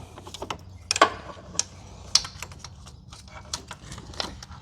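Water pump bolts being snugged down by hand on a Ford 2.0 engine: a run of light, quick metallic clicks and taps, close and fairly quiet, with no talking.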